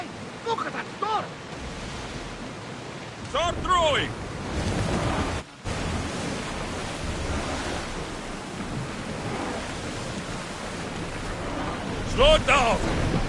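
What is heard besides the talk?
thunderstorm in Assassin's Creed Odyssey video game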